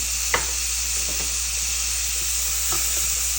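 Garlic and shallots fry for a Thai pork chili paste, giving a steady close sizzle with a few small pops and stirring taps.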